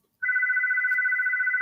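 A phone rings with a steady electronic warbling tone that starts abruptly after a brief silence and holds continuously, moderately loud and close, with no talk over it.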